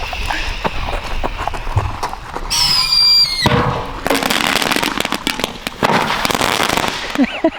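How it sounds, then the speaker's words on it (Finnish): A firework goes off beneath a pot weighed down with a stone, giving a burst of crackling pops and a sharp whistle mid-way, followed by scattered crackles and thumps outdoors. "ilotulite laitetaan kattila alle, palamaan toi tulilanka tosta, sen jälkeen kattila nopeasti paikalleen"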